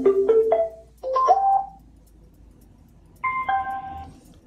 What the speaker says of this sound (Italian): L'ultimo beep che avete sentito è l'accoppiamento con il telefono